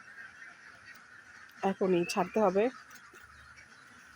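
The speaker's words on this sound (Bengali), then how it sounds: "হাঁস অনেক চেঁচামেচি শুরু করছে" Farm ducks let out a brief burst of loud, harmonic honking quacks, several calls crowded together near the microphone, with someone talking just before and around them.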